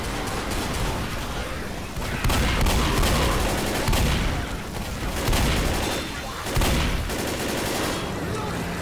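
Machine gun fire in the video game Left 4 Dead, rapid sustained bursts with booming impacts, loud and dense throughout, with voices talking over the shooting.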